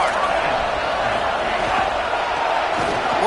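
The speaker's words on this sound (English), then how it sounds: "this home crowd getting involved right from the start" The home crowd at a college football game in College Football 27 roars without a break, a loud, dense wall of cheering that holds steady throughout.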